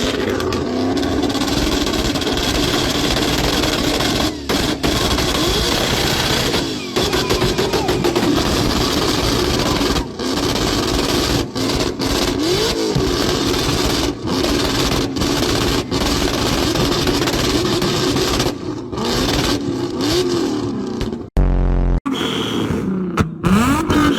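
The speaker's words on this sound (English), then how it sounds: "is the craziest exhaust setup I think I've ever seen in my life" A car fitted with a ten-pipe exhaust setup revs hard and continuously, a loud rasping engine roar with crackling bursts that holds for the whole stretch before a brief sharp cutoff near the end.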